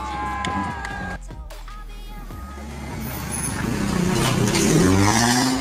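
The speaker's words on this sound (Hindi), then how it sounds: "नेक्स्ट क्लिप में आप रैली कार की साउंड भी सुन सकते हैं," Mahindra XUV500 rally car engine racing along a dirt road, a loud, steady motor roar that swells toward the end, with some crowd-like background noise.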